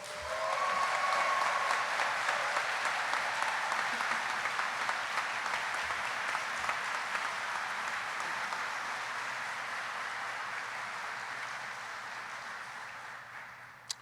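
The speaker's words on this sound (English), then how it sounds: "I think that deserves a wondrous, thunderous round of applause." Sustained audience clapping at a U.S. Army flight school graduation, a broad, continuous patter of many hands that holds for over ten seconds before gradually thinning and fading out.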